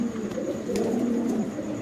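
Soft, low cooing from pigeons repeats steadily through the clip, close by, with faint background noise and no talking.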